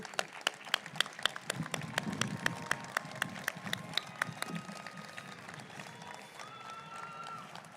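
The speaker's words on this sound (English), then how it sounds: "let's do a round of applause" Audience applause for graduates at a college commencement ceremony: a sustained round of scattered clapping from a crowd, with individual sharp claps standing out, fairly distant and moderate in level.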